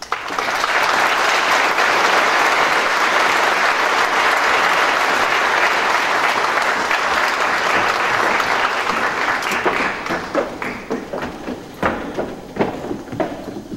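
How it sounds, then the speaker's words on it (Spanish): A conference audience gives loud, sustained applause welcoming a keynote speaker, a thick roar of clapping that holds strong for several seconds, then thins into scattered individual claps before fading. "Por favor, recibámosla con un fuerte aplauso."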